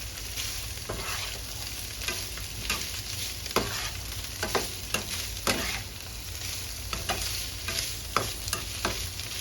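Bamboo shoots and egg stir-fried in a pan: a continuous sizzle with regular scraping and tapping strokes of a utensil against the pan, close by, and no speech.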